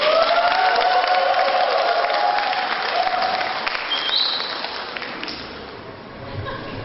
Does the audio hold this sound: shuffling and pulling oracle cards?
no